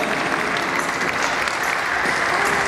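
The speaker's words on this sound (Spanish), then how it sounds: "Aplauso para Bárbara y Samira" An audience applauds a pair of performers after an acrobatic choreography routine, a dense, even wash of clapping from many hands that holds steady and loud throughout with no voices standing out.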